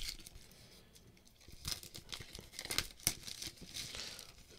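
An unboxing knife slits the packaging on a phone box and the wrap is peeled back, giving faint crinkling and tearing with a few sharper crackles and snaps, close and quiet, with no talking.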